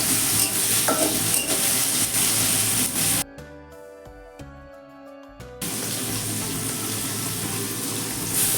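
Chopped tomatoes and spices frying in a pan for a Bangladeshi potato stir fry, a steady sizzle with stirring scrapes that drops out briefly midway before resuming at full strength.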